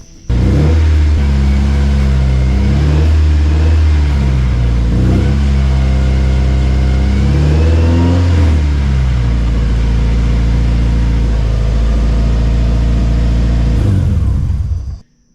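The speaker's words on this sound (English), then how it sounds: "I'm gonna go ahead and fire this up and see how it feels." A Nissan 240sx KA24DE engine, just fitted with a new clutch, catches after an opening crank and settles into a loud, close, pulsing idle with a few revs before it cuts off sharply at the end.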